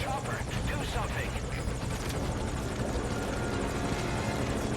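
An enemy chopper in MGSV: Ground Zeroes thuds steadily with rapid rotor chop, loud and constant throughout, while a person talks over it.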